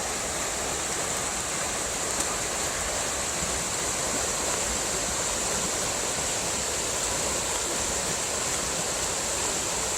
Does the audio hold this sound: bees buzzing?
no